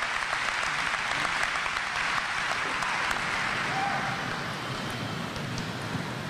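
Graduation audience applauds to welcome a student speaker to the podium, a steady wash of many hands clapping at moderate distance, continuous and even with no talk.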